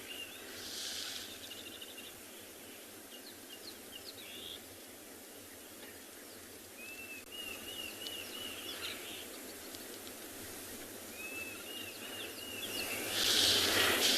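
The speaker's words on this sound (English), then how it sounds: "We're just going to actually sit and listen to the birds for a minute, because there's quite a few interesting ones making some calls." Birds calling at sunrise on a safari in Tswalu, including a Diederik's cuckoo, with repeated thin whistled phrases and chirps at a distance over a constant hiss of insects, fairly faint and without talk.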